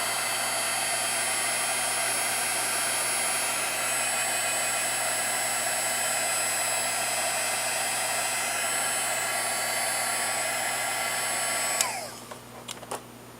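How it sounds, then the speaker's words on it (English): A steady, loud blowing roar of a heat gun drying watercolor paint on a scrapbooking embellishment runs continuously, then cuts off near the end, followed by a few light clicks and taps. "I'm just going to use my heat gun to dry it real quick."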